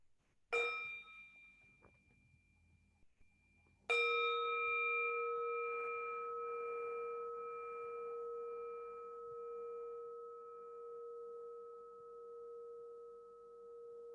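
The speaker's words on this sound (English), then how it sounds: "Why don't we enjoy the sound of the bell?" Meditation bell rung during a dharma talk, a faint first strike followed by a clear louder strike whose pure tone rings out and slowly fades over about ten seconds, with no talking.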